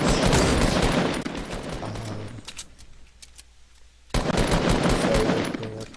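Fortnite gunfire rattles in dense bursts, fast repeated shots that drop out into near silence for about two seconds before another loud volley resumes.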